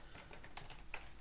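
Quick, faint keystrokes tap on a computer keyboard in a short, irregular burst while commands are entered for a penetration-testing exercise.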